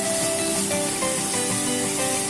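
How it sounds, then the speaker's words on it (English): Vegetables for boiled eggs manchurian frying in a hot pan, a loud steady sizzle and hiss filling the whole stretch without talk. "we will fry the vegetables for 1 to 2 minutes till it becomes little soft"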